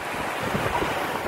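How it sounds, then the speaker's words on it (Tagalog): Strong ocean surf breaking on a beach in Morong, Bataan, a continuous broadband roar of waves mixed with wind buffeting the microphone, with no voices heard. "Napakalakas po ng alon"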